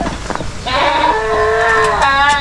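Goats bleating close by: a short rustle, then one long, loud, wavering bleat, followed by a second higher, strained call.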